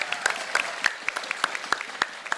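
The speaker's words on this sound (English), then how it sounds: "Give a round of applause for these guys because they are awesome" Scattered clapping from a small group at a Rainbow Six Siege map teaser panel, distinct individual claps landing irregularly at a moderate distance, fairly light and thin rather than a roaring ovation.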